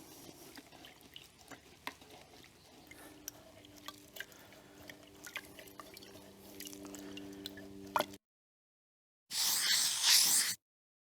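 A paint brush is washed in water, with soft dripping and sloshing close by, followed by a short loud rush of running water.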